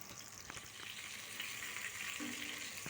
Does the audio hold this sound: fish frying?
yes